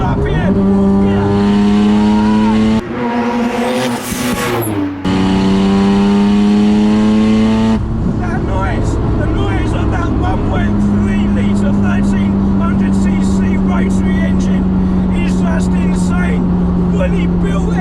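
Loud, sustained high revving from a fully built 500 WHP rotary engine in a Mazda RX7 FD 3S, pulling hard in third gear on an open road, with steady rising engine tones throughout and a brief gear-change break near the start.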